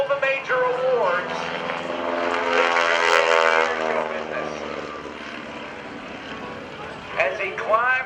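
A propeller aerobatic plane roars through an airshow display at NAS Oceana in 2012, its engine drone rising and falling as it maneuvers, while a commentator talks continuously over the public address.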